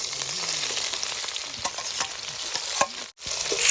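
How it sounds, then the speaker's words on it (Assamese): Onions frying in a hot kadai, a bright steady sizzle with scattered clicks and scrapes of stirring, close and moderately loud, with one brief dropout near the end. "তো গাইজ আমি এতিয়া পিঁয়াজখিনি এড কৰি ল'লোঁ তো এইখিনি এতিয়া গল্ডেন ব্ৰাউন হোৱালে ভাজিম আমি"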